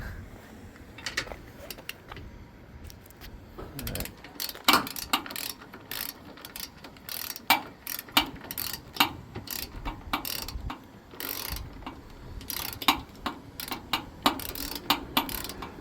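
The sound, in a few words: cranking down a trailer jack by hand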